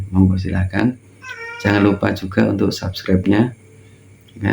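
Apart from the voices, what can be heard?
pet cat meowing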